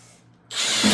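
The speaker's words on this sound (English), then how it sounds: "Let's put the drill back on." A power drill driving a drain snake through a sewer line starts up halfway through and whirs loudly and steadily close by.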